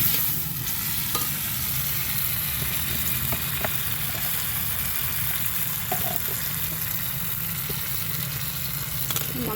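Mashed tomatoes fry in a pan for a drumstick tomato curry, a loud steady sizzle close by with occasional light clicks of a spoon stirring against the metal.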